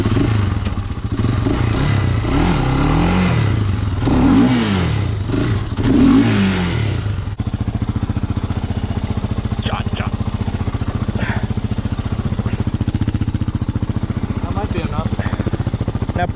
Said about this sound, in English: if you flip it, you owe me a four-wheeler